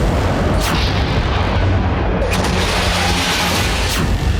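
Missile strikes on the T4 military base thunder in heavy, overlapping booms over a continuous loud rumble, with sharper blasts cutting through near the start and end.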